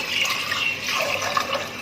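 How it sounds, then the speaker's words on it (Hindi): Water pours steadily from a cup into a pot of masoor lentils and rice for khichdi, a close, continuous splashing trickle lasting a couple of seconds. "अब इसमें वही कप का माप 5 कप पानी के डालेंगे"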